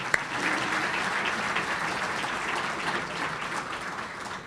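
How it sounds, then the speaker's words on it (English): A large audience at a county address event gives a steady round of applause to the sponsors, dense and even throughout, with no voice heard over it. "Let's give them a round of applause for their support"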